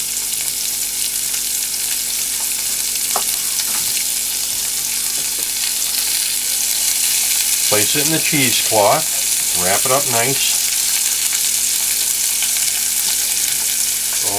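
Food sautés gently in a pan, a steady soft sizzle running throughout, while a person talks briefly partway through.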